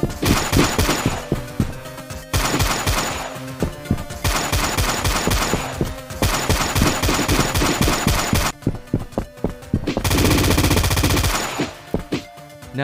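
Rapid gunfire from a homemade zombie shooter video game, loud repeated shots in several sustained bursts separated by brief pauses, with a dense noisy burst near the end and no talking.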